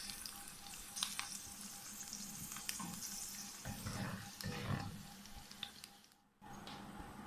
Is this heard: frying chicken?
yes